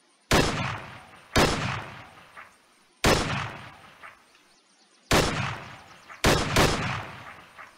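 SVT rifle fired in a WW2 eastern front video game mod: five loud, sharp single shots spaced a second or two apart, each trailing off in a short echoing decay, with no talk.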